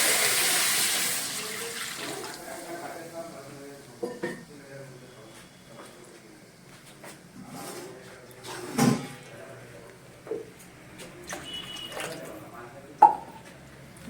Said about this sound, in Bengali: তাই এক লিটার জল দিতে হবে আমি জলটা দিয়ে দিলাম